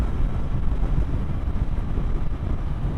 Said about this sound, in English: It's only a bit of wind, Mar.